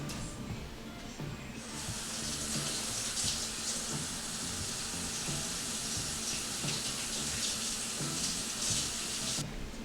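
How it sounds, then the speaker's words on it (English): A kitchen tap runs for hand washing, its steady hiss of flowing water starting after a moment of quiet and continuing evenly for several seconds before cutting off, heard alone without talk. "let me wash my hands"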